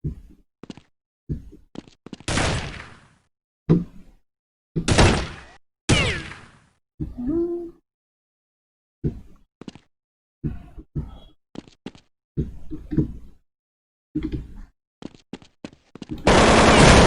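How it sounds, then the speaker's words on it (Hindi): Counter-Strike gunfire with a headshot: sharp, loud rifle shots ring out singly and in short bursts, some with lingering tails, scattered irregularly and ending in a sustained noisy burst. "ये हेड शॉट, बहुत ही अच्छा हेड शॉट दालिया ने मार दिया है।"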